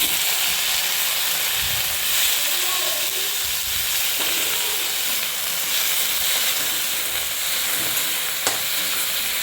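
Ginger, green chili and tomatoes fry in a pan with a steady, close sizzle and occasional stirring throughout, no voices.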